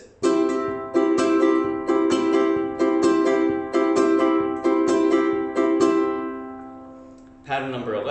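A ukulele strums a repeating pattern at a quick tempo, bright chords struck in regular accents roughly once a second, ringing out to a fading final chord before a brief new sound at the end, close and alone.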